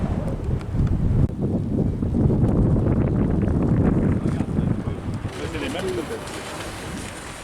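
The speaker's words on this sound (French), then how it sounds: "Le vent se lève, mais tout va bien." Gusting wind buffets the microphone on an outdoor hike along the Oise river near Cergy-Pontoise, a steady loud rumble that eases slightly toward the end.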